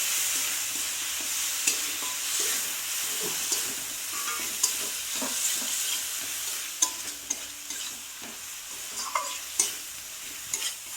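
Spices with sour yogurt sizzle and fry in a pan for Bengali doi katla fish while a spoon stirs and scrapes in frequent clicks, close and steady, with no voices.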